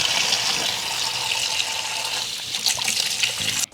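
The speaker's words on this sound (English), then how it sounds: "So you want to wash your hands with a lot of soap." Hands washed with soap under a running kitchen tap, a steady close splash of water that shifts slightly as the hands move, then stops abruptly, with no talk.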